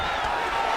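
A video-game arena crowd in EA Sports UFC 5 roars and cheers during an MMA heavyweight bout, a dense, loud wash of voices with a faint whistle, brief and continuous.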